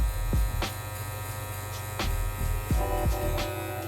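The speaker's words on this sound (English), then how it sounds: "Now with my saber clipper, lever open, we're gonna go to finger's length," Electric hair clippers cut curly hair with the lever open, giving a close, steady buzz that swells briefly with each cutting stroke, with no talking.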